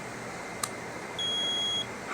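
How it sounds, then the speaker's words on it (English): A solar generator gives a single clean electronic beep, steady and clear, when plugged in, heard alone over low background hiss with a faint click before it. "You hear that beep earlier."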